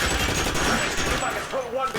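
Video game gunfire in LA Noire: a dense, loud volley of rapid gunshots fills the scene, thinning out toward the end as a voice rises.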